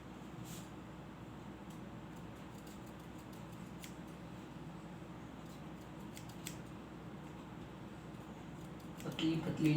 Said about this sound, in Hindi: हम कैंची की सहायता से इस तरह आराम से काट देते हैं